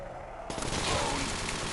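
Automatic AK rifle fire in a Call of Duty custom zombies map, a dense burst of shots that starts abruptly after a brief quiet moment and keeps rattling close and loud to the end.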